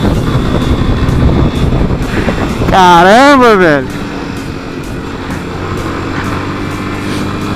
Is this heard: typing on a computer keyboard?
no